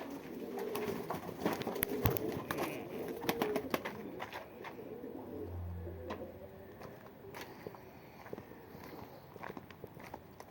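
Soft, low pigeon coos murmur amid a busy flock, with wing flutters, shuffling and scattered clicks close by.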